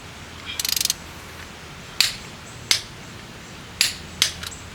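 Torque wrench ratcheting while engine head bolts are tightened to 60 foot-pounds on a turbocharged Honda D-series engine build; a quick run of close ratchet clicks, then several sharp single clicks spaced apart in a quiet garage.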